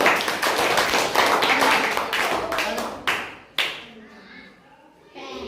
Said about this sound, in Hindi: ताली दो जोरदार